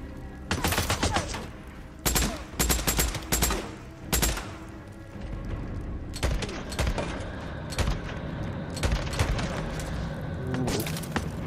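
Rapid bursts of gunfire from the video game Days Gone, loud and close, with clustered volleys and single cracks punctuating a continuous din of combat, heavy booms underneath, and no talk.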